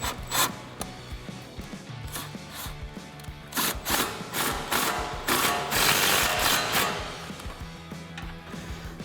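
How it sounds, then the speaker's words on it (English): An electric impact gun with an 8mm socket tightens a strut bolt on a 2011-2014 Mustang while an 18mm wrench holds it, giving a series of sharp, close rattling bursts between brief pauses. "I'm going to take my 18mm, hold it on here, and then my 8mm on my electric impact gun."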